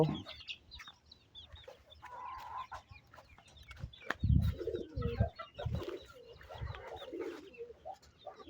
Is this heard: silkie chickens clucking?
yes